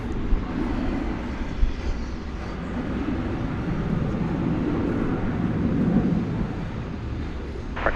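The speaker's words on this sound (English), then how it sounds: "American Flight 2378 is going to Salt Lake City. It's an Airbus A321, and we will join that takeoff already in progress on Runway DFW." An American Airlines Airbus A321 taking off at night at DFW Airport, a broad, steady low roar of jet engines that holds loud and constant throughout, heard from a distance with no voices.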